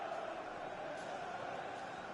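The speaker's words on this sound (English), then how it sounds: "listen to that crowd. Manchester United fans making themselves heard" A crowd of Manchester United fans in the FIFA 20 football game keeps up a steady, even roar of cheering, a dense wall of distant voices without clear peaks.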